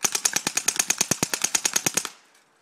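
A Stenz mk II machine gun fires one rapid, even burst of roughly twenty loud, close shots that then stops and leaves a short fading tail.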